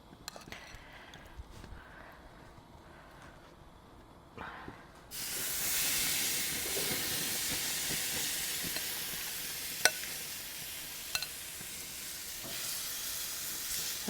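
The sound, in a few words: pork chops sizzling on a barbecue grill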